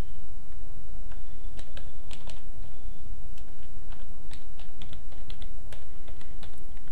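Steady computer keyboard typing while a Vinayagar Chaturthi greeting card is made in Photoshop: crisp, irregular key clicks in quick clusters, close and clear over a soft background hiss, with no voices.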